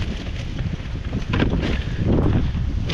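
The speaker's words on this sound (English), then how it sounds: "This wind is serious." Strong gusty wind buffets the microphone outdoors, a loud, continuous low rumble that swells in surges, with no talking.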